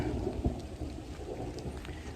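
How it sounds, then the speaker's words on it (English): Steady rain falls close by with low rumbling thunder underneath, a continuous soft wash with a few sharper drops and no voices. "I think there's some big drops coming down, so I think it's going to rain a bit more."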